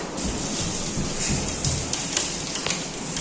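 Hail pelts down during a strong thunderstorm with high wind, a dense, steady hiss of tiny impacts, with a few sharper clicks standing out and no voices.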